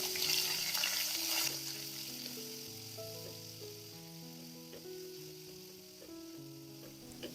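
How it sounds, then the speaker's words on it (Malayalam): Crushed ginger, garlic, green chilli and curry leaves sizzle in coconut oil, a steady soft frying hiss beneath gentle background music, with louder sizzling at the start. "എന്നിട്ട് ഇതിൻ്റെ പച്ചമണമൊക്കെ ഒന്ന് മാറുന്നത് വരെ നമുക്ക് നന്നായിട്ടൊന്ന് വഴറ്റിയെടുക്കാം"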